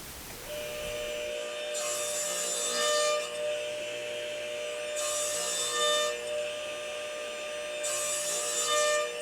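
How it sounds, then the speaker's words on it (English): A power saw runs steadily through a wooden board, whining loudly as it makes three short kerf cuts along the board's edge, each cut a brief rise in harsh, bright noise. "Make 3 kerf cuts just on the edge of the board"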